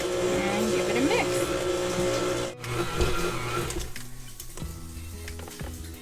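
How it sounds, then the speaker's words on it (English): Batter with added flour beaten in an electric mixer: a steady, loud mechanical whir with a brief dip midway as the motor strains, then running on with a slightly changing pitch. "And give it a mix."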